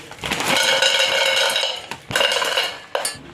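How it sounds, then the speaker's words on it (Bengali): Dry soybean chunks tumble into a metal saucepan with clattering, rattling knocks in a few quick bursts, close and moderately loud, with no talking. "সোয়াবিনটা একটা সসপ্যানের মধ্যে দিয়ে দেবো"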